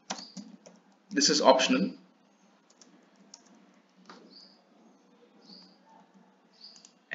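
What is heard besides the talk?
typing a description on a computer keyboard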